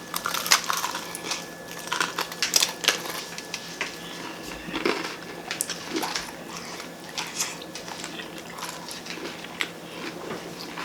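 Hot, freshly fried homemade chicken topped with mild sauce gets bitten and chewed up close, with a run of sharp, crisp crunches and softer munching over about ten seconds.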